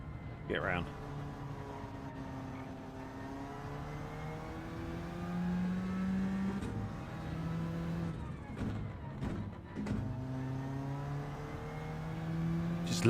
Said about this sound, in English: Just love the sound of that gear change.